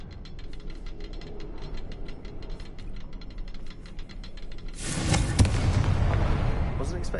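A Confringo fire spell explodes in Hogwarts Legacy, a sudden loud burst that erupts after a stretch of softer mechanical clicking and ticking, then a lingering roaring rumble.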